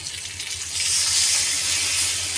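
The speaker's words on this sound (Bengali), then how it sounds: "এবারে কিন্তু আমি এর মধ্যে সামান্য একটু জল ঢেলে এটাকে ঢাকা দিয়ে রেখে দেবো।" A little water poured into a pan of fish-head curry, a steady close hiss and gush of liquid that swells after the first second and runs on without talk.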